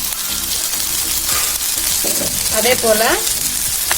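Cubed onion with a few garlic cloves sizzles steadily in a pan for prawn masala gravy, a continuous close frying hiss with occasional stirring scrapes, while a voice speaks briefly over it.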